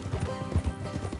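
Horse hooves clip-clop steadily in Red Dead Redemption II, a dense rhythmic trot of close hoofbeats over a full, rumbling game soundscape.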